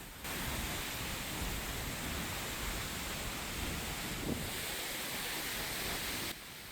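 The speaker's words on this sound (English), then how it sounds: "we drove to Seljalandsfoss, just about a mile away, where you can walk behind the waterfall itself." Seljalandsfoss waterfall in Iceland roars as a dense, steady broadband wash, constant and fairly loud from start to finish with no voices.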